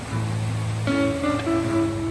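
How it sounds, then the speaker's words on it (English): A campsite waterfall roars as a steady, broad rush of falling water, loud and continuous, with a few brief tonal hums layered over it partway through. "what makes this camp spot special is the waterfall"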